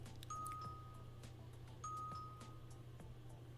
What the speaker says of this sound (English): I'm just going to keep ringing that doorbell